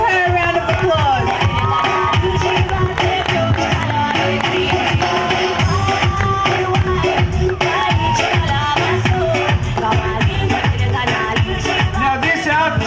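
Crowd clapping and cheering fills a busy Fiji Day fashion show in Sydney, a dense, steady wash of applause and whoops with music and voices running underneath throughout.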